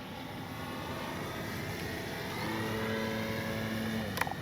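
A CNHL Bison XT RC bush plane on its maiden flight gives a steady electric motor hum with a faint rising and falling whine as it passes, moderately distant and without speech.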